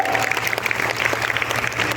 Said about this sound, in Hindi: ताली बजाओ जोरदार अपने लिए